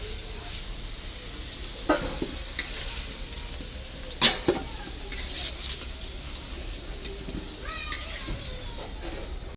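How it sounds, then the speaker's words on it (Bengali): Cardamom, chili and cinnamon fry in hot oil for a chicken kosha, making a steady crackling sizzle with occasional clinks and scrapes of stirring, while faint voices sound in the background. "তেল দিয়ে দিলাম, এলাচ লঙ্কা দারচিনি এগুলি দিয়ে দিলাম"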